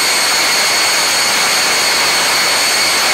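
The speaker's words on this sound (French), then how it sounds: "vu le bruit que ça fait, c'est l'aviation de chasse" A fighter jet overhead makes a loud, steady roar with a high whine that fills the whole stretch, then cuts off abruptly at the end.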